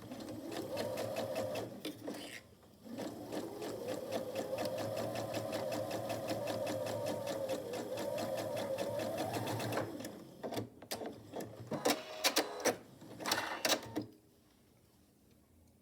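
A sewing machine back stitching through quilt binding on a quillow, a long steady whirring run that pauses, then short stop-start bursts of stitching.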